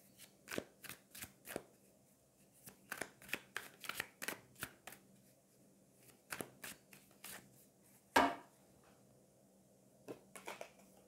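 Oracle cards are shuffled by hand in a series of quick, crisp riffling bursts, close and fairly quiet. They come in short irregular clusters with brief pauses between them and no talking.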